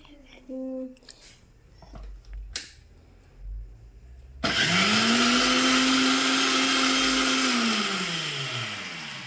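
A mixer grinder grinds chutney in a home kitchen, starting abruptly with a loud, steady whirring roar that slowly drops in pitch as it runs, after a few short clatters and faint voices.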